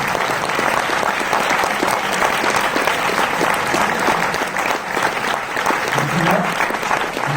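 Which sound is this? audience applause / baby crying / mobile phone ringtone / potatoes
audience applause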